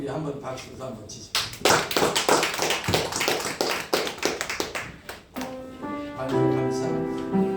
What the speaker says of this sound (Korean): 모두를 위해서 우리 한번 박수도 한번 치십시오